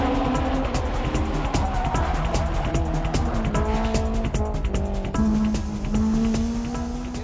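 Turbocharged race cars, including a Mitsubishi Lancer, racing uphill: loud engines rising and falling through gear changes with tire squeal, close and continuous.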